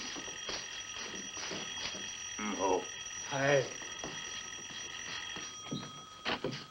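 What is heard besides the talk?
doorbell ringing in a film scene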